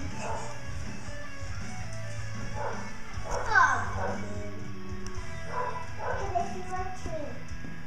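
A puppy yips and barks in a couple of short bursts amid steady rock music from a DVD playing indoors, with a voice nearby.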